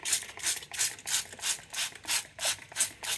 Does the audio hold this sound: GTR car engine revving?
no